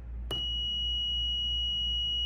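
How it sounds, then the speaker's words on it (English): A click, then a steady high-pitched electronic buzzer tone, triggered by a bistable circuit, holds unbroken, loud and close. "when the red LED turns on, that would trigger the buzzer"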